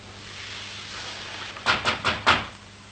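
Four quick, firm knocks on a front door, evenly spaced and fairly close, over a quiet room hum with no one talking.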